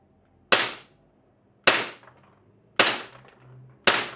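Four sharp, loud shots from a Glock 17 airsoft pistol spaced about a second apart, each a crisp crack with a brief mechanical rattle of the recoiling slide after, no talking.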